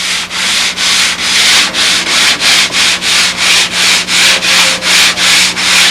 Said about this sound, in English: You can actually do it on the sander if you wanted to.